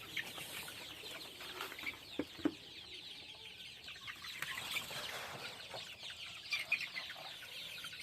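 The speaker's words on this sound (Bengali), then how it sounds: "অনেকগুলো বাচ্চা আছে একদম পুরো অরিজিনাল পিওর দেশি মুরগির বাচ্চা" Native chicks and hens on a farm cluck and cheep in a busy, continuous chorus, with scattered clucks and a few wing flaps at moderate distance.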